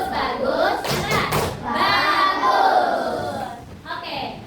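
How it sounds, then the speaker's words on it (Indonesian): A class of primary school children does the rhythmic "tepuk bagus" clap chant: a few sharp, loud claps, then voices chanting together, with a final clap near the end. "Tepuk bagus."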